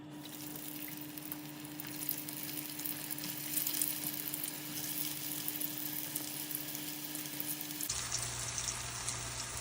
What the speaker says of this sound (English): we're just frying our potato skins in our 375 vegetable oil